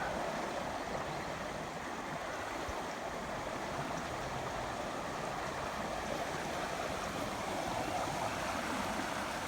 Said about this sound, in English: I think it's the water flowing over that log